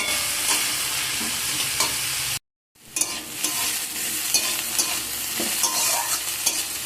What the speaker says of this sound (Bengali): সব সবজিকে আমি খুব ভালো সুন্দর করে নাড়াচাড়া করে নেব